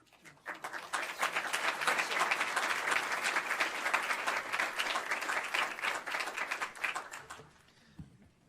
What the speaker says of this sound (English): How about another round of applause for that group out there